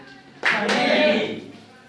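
Audience at a motivational talk clapping on command: one sudden, loud burst of many hands that swells for about a second and then fades quickly.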